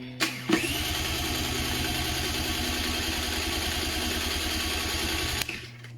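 An electric starter cranks a 50cc motorcycle that won't start, a loud, close, rapid chugging churn running steadily for about five seconds between clicks, with no ignition catching.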